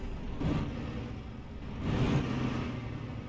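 A low DAF XG+ truck engine drone in Euro Truck Simulator 2, a steady rumble swelling louder twice as it revs, heavy and bus-like, with no voices.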